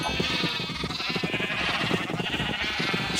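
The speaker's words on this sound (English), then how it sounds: "Note to self, don't mess with sheep and their wheat." Sheep bleat repeatedly in Minecraft, with several overlapping pixel-farm calls over a steady background of game sound, coming in a loud and continuous stream.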